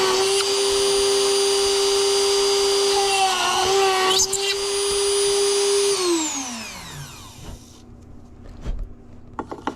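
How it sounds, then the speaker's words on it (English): Drill press boring entry holes in wood: a steady high motor whine with a short burst of cutting noise midway, then the motor spins down and stops, leaving a few faint knocks. "Okay, over here at the drill press."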